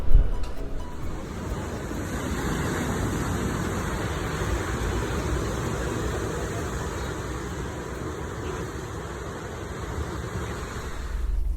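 Strong wind buffets the microphone by the sea in Italy, a steady loud roar with surf-like rushing and low rumble throughout, near and unbroken, with no talk.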